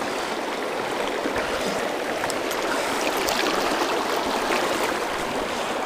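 Steady broadband rush of a flowing trout river, close and continuous with no talk, the water's hiss filling the whole stretch without a break.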